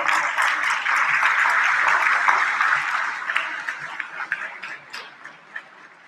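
An indoor audience at a Durango political event breaks into sustained applause, dense clapping that gradually thins into scattered individual claps toward the end.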